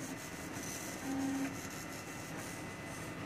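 A RepRap Prusa 2 3D printer with a J-head hot end and 0.5 mm nozzle prints black PLA, giving a faint, steady mechanical whir with a brief tonal stepper-motor whine partway through.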